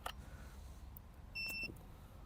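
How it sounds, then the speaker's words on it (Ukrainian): Warning beep from the emergency brake of a ProCraft PCA40/2 cordless saw: a brief, clear electronic tone sounding once near the middle, fairly loud against a quiet background with no talk. "тут є е, ось такий аварійний тормоз, тобто, коли він включений, то ви використовувати не зможете, буде е, пікати звуковий сигнал поступати"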